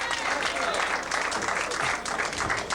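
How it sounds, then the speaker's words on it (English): At a 1991 pro duckpin bowling match at Town Hall Lanes in Johnston, Rhode Island, a crowd breaks into sustained applause after a strike, dense clapping throughout with speech mixed in. "The crowd loved it."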